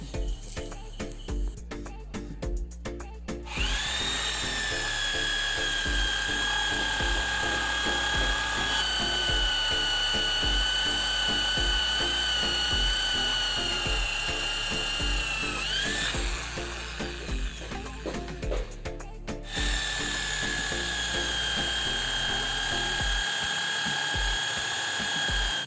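An electric drill bores holes into areca palm sofa legs, giving a sustained high whine with steady harmonics that runs almost continuously, pausing briefly around the middle and again near the end, close and loud with no talk.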